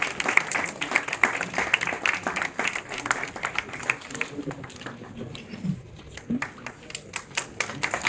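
An audience applauds at the launch of the 13th edition of Conceptual Physics, giving steady close clapping that thins into scattered claps, with voices talking over it.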